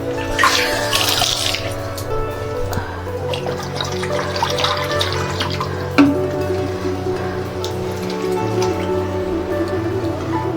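Water splashing and trickling into a pan of cooking prawn gravy with prawn dumplings, steady and close, with faint clinks and bubbling throughout.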